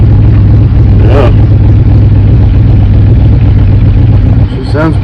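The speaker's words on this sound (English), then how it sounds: "She sounds pretty good. Got the factory exhaust on her still" A 45-year-old truck engine still on its factory exhaust runs loud and steady, with a deep, continuous rumble close by; a voice briefly talks over it near the end.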